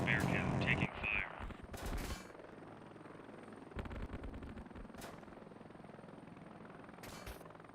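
A helicopter in the video game Heliborne takes gunfire, with rotor drone under bursts of rapid shots and louder impacts, while a voice talks briefly at the start.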